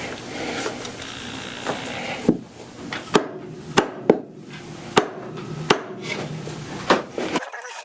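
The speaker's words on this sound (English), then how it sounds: "I'm going to see if I could separate those two with a chisel" Glued wooden drawer pieces being pried apart with a chisel, a series of sharp wooden knocks and cracks spaced about a second apart over a rustling background.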